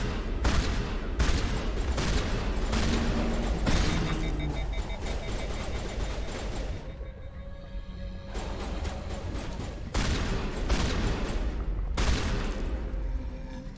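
Shotgun blasts in the sci-fi shooter Mass Effect 3: repeated heavy, booming shots in irregular clusters amid combat noise, loud and close, with a brief lull before firing resumes.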